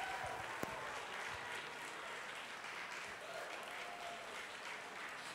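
A gala crowd applauds after a performance at the Miss Universe Malaysia 2018 Gala Night, a dense, steady wash of clapping from a large audience that holds evenly throughout, fairly distant and without clear talk.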